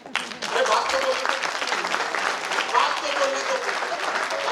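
Audience clapping at a motivational speech event, a dense, steady round of applause from a crowd that holds evenly for several seconds at moderate loudness.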